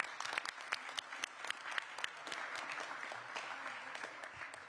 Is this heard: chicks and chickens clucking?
no